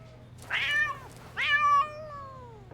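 A cat in the Love and Deepspace video game meows twice, two clear drawn-out calls about a second apart over quiet background hum.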